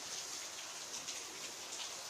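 Heavy rain pours down steadily in a continuous, dense hiss of drops with no pauses, loud and close, and no voices are heard.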